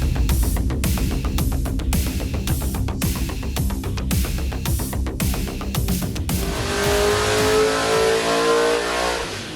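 Car engine revving hard on a dyno, fitted with 96-pound fuel injectors: a loud rising mechanical roar with rapid pulsing, then a smoother sustained high-rpm wail toward the end, alone.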